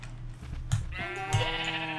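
Sheep in the Minecraft game let out two short, close bleats about half a second apart against a low background hum.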